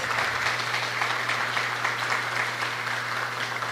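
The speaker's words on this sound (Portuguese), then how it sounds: "Cadê uma salva de palmas para eles." Audience at a fraternal-care training session in Osasco claps in a steady, dense wash of applause lasting several seconds, even in loudness throughout, with no voices on top.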